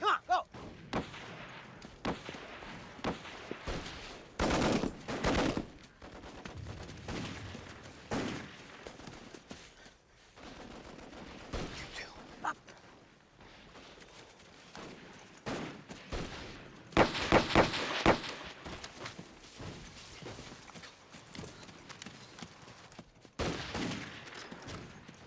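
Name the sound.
machine gun fire in a war movie battle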